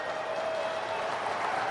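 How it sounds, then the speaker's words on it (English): A hockey arena crowd at an AHL game between the Providence Bruins and the Utica Comets applauds after a penalty kill, a steady, even wash of clapping and cheering throughout. "The crowd loves it, as they should."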